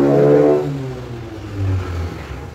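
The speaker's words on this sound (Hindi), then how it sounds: "बाइक गैरेज है, जो टू व्हीलर्स रिपेयर होती है गैरेज है, तो उसी का नॉइस है" A motorbike engine revs at a two-wheeler repair garage, rising in a loud close burst and then settling into a lower steady drone.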